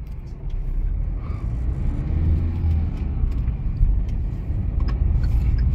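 A car passes along a road, its engine rumble holding loud and close for several seconds with a continuous low drone and faint higher noise, no talking.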